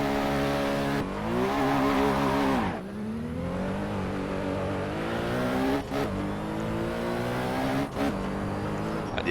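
Porsche 917K race car in Assetto Corsa, its engine revving loud and close with rising harmonic pitch, a brief drop near the three-second mark as it shifts, then climbing again through repeated upshifts.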